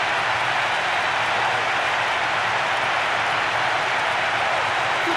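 Capacity crowd noise from PES 6 football game celebrating a goal: a continuous, even roar of cheering and clapping, broad and sustained from start to finish without any commentary on top.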